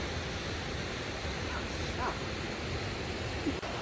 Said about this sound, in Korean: 그리고 떨어지는 폭포수 또한 너무도 시원하고 우렁찼는데요.